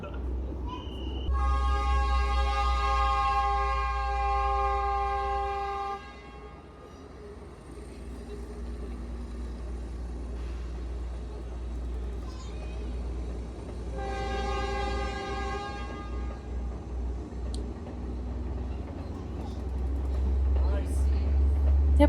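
A train pulling into a station in Sri Lanka sounds two long horn blasts, separated by a pause, over the low rumble of the approaching locomotive and cars, with faint crowd murmur beneath.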